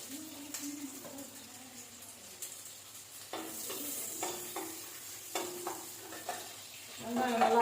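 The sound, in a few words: onions frying in oil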